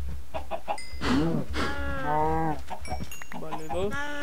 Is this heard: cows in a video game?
yes